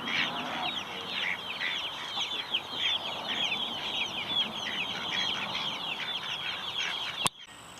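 Chickens cluck and chatter close by in a continuous, busy flurry of short calls, with a sharp knock near the end.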